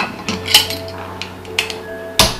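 Sharp metallic clinks and taps as the weight is placed on a pressure cooker of mutton up close, four or five separate knocks over a faint steady hum.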